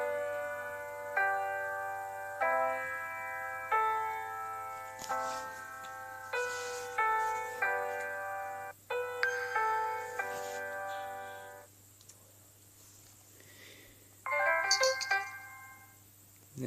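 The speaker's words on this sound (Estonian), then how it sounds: "Ja need on sinu äratustoonid," A run of short electronic phone alarm tones on Sailfish OS plays one after another, each a bright chiming pattern separated by brief gaps, with no talking.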